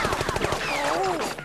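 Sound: gunfire in Penny Arcade video game

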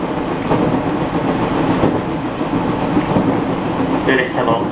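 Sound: Ou Main Line local train running on rails

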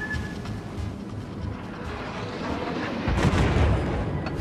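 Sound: incoming naval gunfire in World of Warships video game

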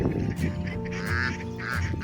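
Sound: wild geese

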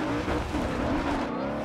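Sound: car engine and tires in Forza Horizon 2 video game

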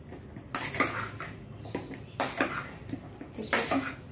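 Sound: mixing cauliflower pakora with spices in a bowl

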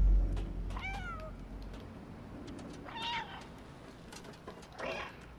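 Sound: cat meowing in video game Stray

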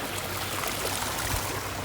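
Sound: water flowing in rain

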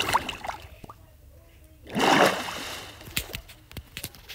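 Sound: water being placed or splashing in the video game Minecraft

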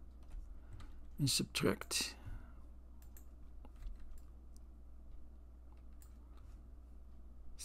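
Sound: computer mouse clicks and keyboard in Figuro modelling

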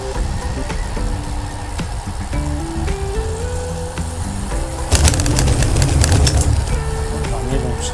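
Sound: birds calling

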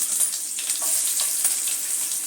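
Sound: onion and garlic frying in oil

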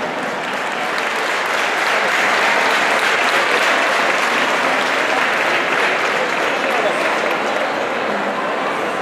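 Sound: audience applause for folk singers

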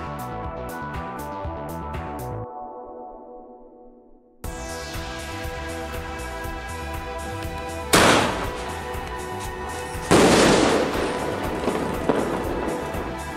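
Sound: Minion sky shot firework launching and crackling

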